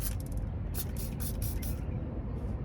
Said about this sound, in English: I'm going to use my trusty little soapy water here, and I'm going to spray this.